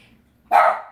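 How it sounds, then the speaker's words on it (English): A pet dog named Pikachu lets out a single sharp, loud bark close by, cutting through an otherwise quiet room. "that's my doggy"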